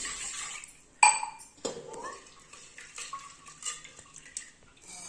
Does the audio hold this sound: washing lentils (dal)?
yes